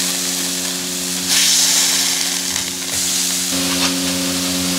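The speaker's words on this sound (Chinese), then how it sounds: "鱼头先下锅。" A fish head dropped into a wok of hot red chili oil with pickled chilies, giving a loud, continuous sizzle that swells sharply after a second and keeps hissing without any talk.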